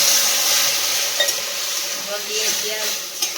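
Tomato and spices frying in a pan for a potato and eggplant curry, with a steady broadband sizzle and occasional stirring clinks close by.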